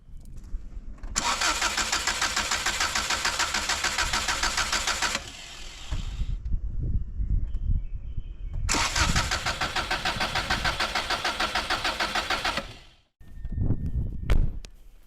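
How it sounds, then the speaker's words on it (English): A 1995 Subaru GC8 engine cranks with its fuel system disabled, the starter grinding in two long, loud bursts of several seconds each, followed by a short third crank near the end, with rough mechanical clatter between them. "I'm going to start the car, and I'm going to actually allow hopefully the excess fuel to leave the system"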